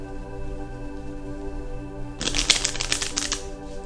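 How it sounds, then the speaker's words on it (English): A deck of tarot cards given a real shuffle: a quick, close flurry of riffling card clicks lasting about a second and a half, heard over a faint steady hum. "Oh, the cards are being so stubborn. Okay, I think they want like a real shuffle."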